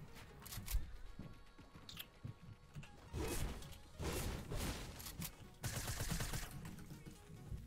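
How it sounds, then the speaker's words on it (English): Gunfire in a battle royale video game, scattered shots and short bursts at moderate distance, fairly quiet, with clusters of louder reports toward the middle and end. "Oh, I'm getting shot from somebody else."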